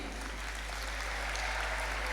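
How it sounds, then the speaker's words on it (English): Faint, steady applause from an audience at a school language awards ceremony, a soft continuous patter of clapping held at a distance for a couple of seconds. "I want you all to give applause to them"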